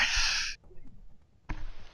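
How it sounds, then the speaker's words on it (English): A single sharp sneeze bursts out loud and close at the start, followed by a short pause and a breathy exhale or sniff, with no speech. "Sure, but I had to sneeze."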